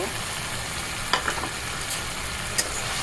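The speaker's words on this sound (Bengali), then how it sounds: "মশলাটা কখন হয়ে গেছে আর তেল উঠে গেছে এখন আমি আলুগুলো দিয়ে দিব" Potatoes sizzle and fry loudly in hot spiced oil in a pan, a steady dense crackle with a few sharp stirring clinks and scrapes over it.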